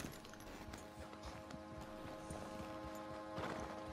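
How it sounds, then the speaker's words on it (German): Hooves of a red Arabian horse clip-clop in a steady walking rhythm within a Western-themed video game, quiet and close, over a low ambient bed with no voices. "Gutes Pferd."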